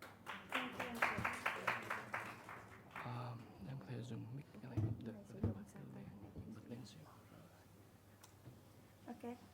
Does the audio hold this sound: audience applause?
yes